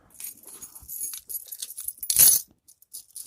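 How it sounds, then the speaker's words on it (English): Everyday-carry keys jingle and clink up close in short bright bursts, with one louder rattle near the end and brief pauses between shakes, no talking. "Keys."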